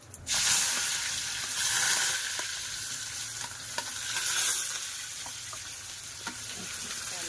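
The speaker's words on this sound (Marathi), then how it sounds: "कढीपत्ता टाकूया, कांदा" Curry leaves and chopped onion hit hot oil in a pan for a Marathi dried bombil curry, with a loud initial hiss that settles into a steady sizzle and occasional stirring taps. No one speaks.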